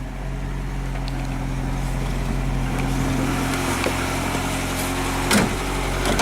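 A Polonez Caro Plus car engine idles steadily after alternator rectifier bridge repair, a continuous, even low hum with a brief louder bump near the end and no talking.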